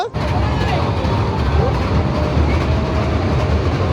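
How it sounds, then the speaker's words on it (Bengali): A dragon train ride at a Malda fair expo runs close by with a loud, continuous rumbling clatter of wheels and cars, steady throughout. "এই সাইডে চলছে ড্রাগন ট্রেন, তোমরা দেখতে পাচ্ছ"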